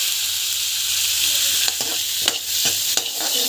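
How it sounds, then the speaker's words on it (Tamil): Mushroom gravy base sautéing in a pan with steady broadband sizzle, broken near the end by a few sharp stirring scrapes; close and fairly loud, with no talking. "நல்லா வந்து வதங்கட்டும். நல்லா வதங்கணும்."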